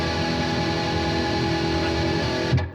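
A guitar plays through an MXR EVH high gain pedal with the noise gate turned all the way up, giving a sustained, heavily distorted tone that cuts off abruptly near the end.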